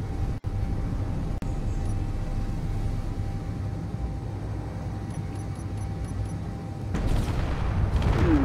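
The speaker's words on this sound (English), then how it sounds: "Bombs." In Space Engineers, a B-25 Mitchell bomber's engines drone steadily, then its dropped bombs burst near the end in a swelling, rumbling roar of explosions.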